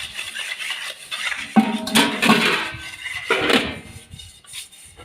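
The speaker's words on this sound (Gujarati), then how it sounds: "ડબરા ઘસી રહ્યા છે." Metal storage tins and steel and brass kitchen containers are scrubbed clean by hand, producing clattering, clinking scrapes in uneven bursts, close and fairly loud, with wind in the background.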